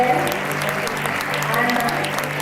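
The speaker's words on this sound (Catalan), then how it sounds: "un bon aplaudiment a la model" Steady audience applause at a national paper-dress contest as a model is presented, a dense wash of clapping under a presenter's voice.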